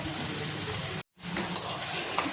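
Amudi fish sizzling in oily, fried spice masala, a loud steady hiss that cuts out for a split second and then resumes with light crackles, close up and with no voices.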